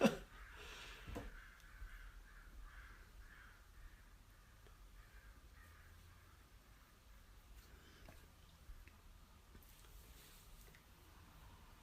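Crows caw repeatedly in a steady series of harsh calls, moderately distant and fairly faint over a low background rumble, with no talking.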